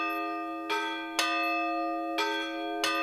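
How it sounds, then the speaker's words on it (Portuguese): Large church tower bells ring out with four resonant strikes, each leaving a long humming overtone that rings on between hits. "Na torre estão os sinos, desde quando a igreja foi inaugurada."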